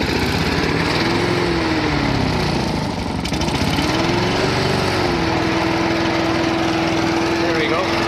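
A Rover lawn mower engine starts and runs steadily, its rising and settling drone holding loud and close throughout, with a faint voice briefly underneath.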